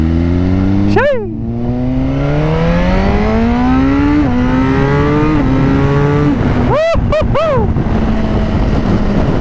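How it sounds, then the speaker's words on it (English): A Suzuki Gixxer motorcycle engine drones loud and close with rising and falling pitch, then snaps through a quick series of sharp auto-blipped downshift revs near the end. "Another part about this bike that I love is the auto blipper. Like the way this thing downshift."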